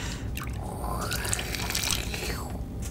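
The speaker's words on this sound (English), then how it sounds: "I watched you pour a drink in a cup." A gin cocktail poured into a cup, a continuous wet gurgle and trickle of liquid lasting a few seconds, close and fairly loud with no talking.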